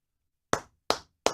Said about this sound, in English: What are you clapping for right now